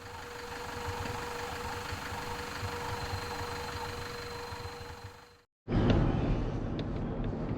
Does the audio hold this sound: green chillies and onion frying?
no